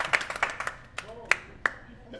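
A small studio audience at a live French talk show claps briefly, a handful of distinct hand claps at irregular intervals with a voice speaking faintly beneath.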